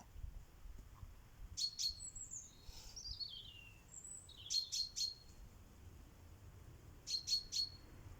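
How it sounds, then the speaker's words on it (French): Small bird singing outdoors in short bright bursts of chirps and trilling whistles, three phrases spaced a few seconds apart, fairly faint against a quiet background. "Merci, petit oiseau, pour ton beau chant."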